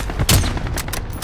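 Gunfire in a shooter game cracks out in a quick burst of loud, close shots and booms overlapping within a second or so.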